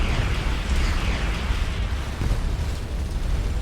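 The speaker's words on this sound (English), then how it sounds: "they appear to be firing some kind of weapon that's draining my energy reserves" Enemy weapon fire and explosions rumble through a space battle in the game Starcom, a dense, continuous roar of booms and bursts with no one speaking.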